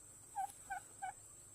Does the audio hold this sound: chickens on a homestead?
yes